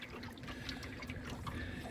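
A canoe moves across a lake, its paddle making soft, faint splashes and drips that trickle on steadily in a quiet outdoor setting.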